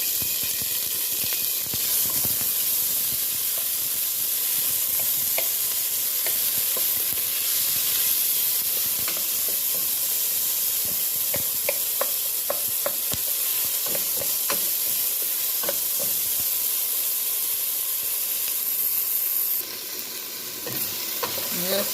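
Onion, sweet pepper and tomato sautéing in oil in a pan, a continuous close, loud hissing sizzle with scattered light clicks of stirring throughout.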